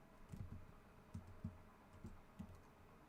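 Soft, faint keystrokes on a computer keyboard come in small irregular clusters of clicks, quiet and close in a still room with no talking.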